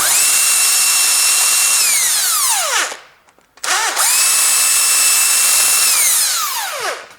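Power tool spinning out cylinder head bolts on a Ford Duratec engine, two loud close whirring runs that rise then wind down, separated by a brief pause.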